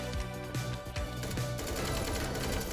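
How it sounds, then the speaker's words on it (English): Rapid SMG bursts from the 1v1.LOL shooter game rattle continuously over a busy, loud game soundscape, the fire sounding close and steady throughout. "the SMG is actually shredding him"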